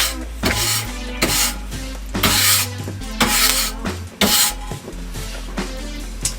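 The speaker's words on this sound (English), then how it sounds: "I'll use my brush and brush all my ashes towards the back." A brush sweeps ashes toward the back of a Millar's wood-fired pizza oven in a series of close, scratchy strokes over a low steady hum, with no voices.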